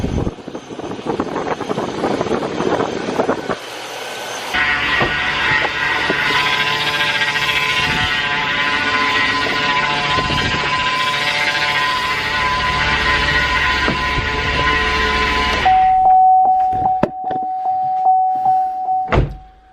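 A car's power steering pump with air trapped in it runs as a loud, continuous whine and groan with a steady tonal hum, ending in a series of rhythmic ticking knocks.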